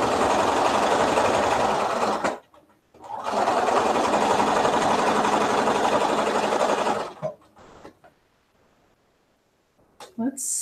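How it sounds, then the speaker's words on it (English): A Bernina sewing machine, freshly cleaned and oiled with a new needle, runs in two long loud bursts, a short one then a longer stretch, with a slightly rough mechanical drone before stopping. "I cleaned out my machine and I oiled the hook tonight, and I put in a new needle. She still sounds a little rough to me though."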